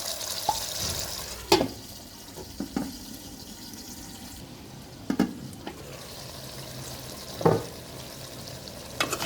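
Radish greens, eggplant and potato cooking with fish in a curry pan, giving a steady low sizzle broken by a few distinct spatula clanks and scrapes spaced several seconds apart.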